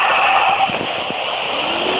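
A motorbike engine in the video game Free Fire, a continuous buzzing drone running loud and steady throughout, with a few faint brief knocks underneath.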